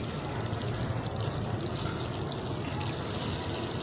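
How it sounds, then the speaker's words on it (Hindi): Water poured onto freshly planted garden plants, a steady broadband splash and trickle running continuously and fairly close throughout. "अब हम पानी देते हैं पौधों को।"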